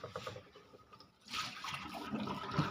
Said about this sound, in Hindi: यहाँ से पानी कंटिन्यूसली निकलता ही रहेगा।